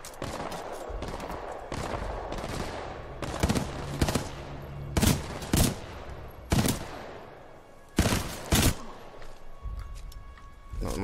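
Gunfire in the Titanfall 2 video game campaign: a run of sharp, loud shots in bursts and single cracks, spaced irregularly across the stretch over a steady background rumble.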